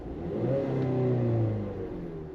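A 2015 Ford Edge engine, opened up with the throttle, gives one close, moderately loud rev that climbs, holds briefly and settles back down, with no voices.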